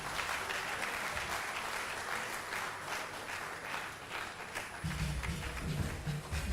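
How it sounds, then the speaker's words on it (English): Crowd applause at a Lagos State University LASUMBA Week celebration, a moderate continuous patter of many hands heard from some distance, with a low rumble joining toward the end. "That applause should be for me."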